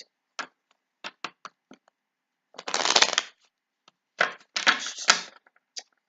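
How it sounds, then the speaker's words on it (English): Crisp riffling bursts of tarot cards being shuffled, several short flicks followed by two longer cascading shuffles, close and clear with quiet pauses between. "So I'm going to shuffle."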